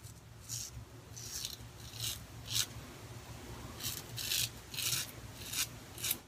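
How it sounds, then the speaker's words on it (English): A safety razor blade shaving through facial hair in close, even strokes, each a short raspy scrape repeated about ten times in an irregular rhythm, quiet and up close with no talking. "Hear that blade just cutting through that hair?"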